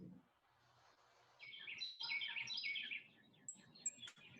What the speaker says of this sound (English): the birds sound so nice